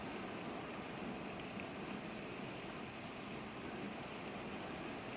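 Steady rain falls at Blackheath on the Blue Mountains plateau, a dense, even hiss of drops striking surfaces, fairly loud and continuous throughout with no voices.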